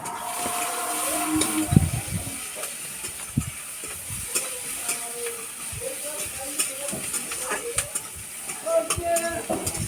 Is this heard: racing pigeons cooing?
no